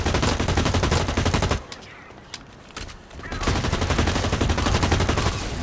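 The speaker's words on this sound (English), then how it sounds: "Absolutely fantastic gun for puncturing holes in walls." Dense automatic gunfire from a wall-piercing gun in the shooter Blacklight: Retribution, loud and rapid, drops out for about two seconds with a few scattered shots, then resumes in a steady hammering stream.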